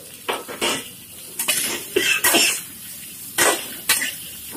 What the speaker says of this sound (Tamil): இப்போ குட்டி குட்டியாக கட் பண்ணி வச்சுருக்கக்கூடிய கோவக்காவை அதில் ஆட் பண்ணிக்கோங்க.